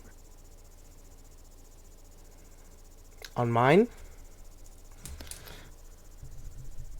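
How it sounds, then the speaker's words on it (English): Crickets chirp in a steady, faint background drone behind a voice on a live online call, with a brief louder burst partway through. "I can hear the crickets"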